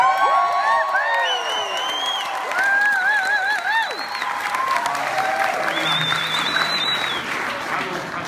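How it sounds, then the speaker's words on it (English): A large crowd at a Bernie Sanders rally in New Hampshire cheers and applauds loudly and continuously, with sharp whistles and whoops rising above the sustained clapping. "And one more cheer."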